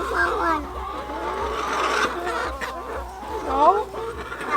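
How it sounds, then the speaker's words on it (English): Chickens clucking on a homestead, a run of soft, busy clucks and calls close by, mixed in with people talking over them. "Don't put your hand too close to the chickens."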